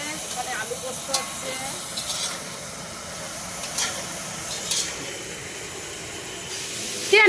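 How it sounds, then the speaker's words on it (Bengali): Mixed vegetables frying in a pan for a rice-feeding ceremony feast, a steady hiss and sizzle that runs throughout with faint stirring clinks. "আমি এখন যে সবজিগুলো সব ভাজি মিক্স ভেজে সবজিগুলো সব ভাজা ভাজা হচ্ছে"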